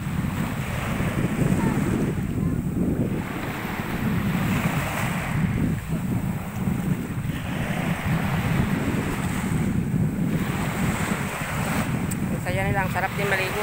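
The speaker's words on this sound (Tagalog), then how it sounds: "And the wave is very calm." Calm ocean waves at a beach, a constant close surf wash with heavy wind buffeting the microphone and a faint voice near the end.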